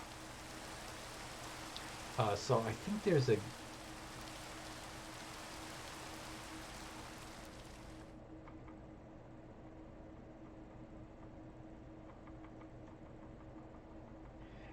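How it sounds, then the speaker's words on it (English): Steady rain falls across a video game world as a soft, even hiss, with someone briefly talking early on. The downpour's brighter edge cuts out about halfway, leaving a quieter, duller wash. "Again with the rain."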